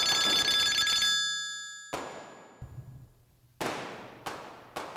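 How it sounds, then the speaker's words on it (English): An old-style telephone bell rings, a bright metallic clanging burst followed by a gap, then several sharp rings in quick succession, each decaying quickly, in a quiet room. "I hope that's your phone and not my tinnitus acting up, Calhoun."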